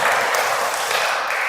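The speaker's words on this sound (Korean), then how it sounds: "우리 찬양을 위해서 박수 한번 보내주세요" A church congregation applauds after a worship song, a dense, steady wash of clapping from many hands throughout.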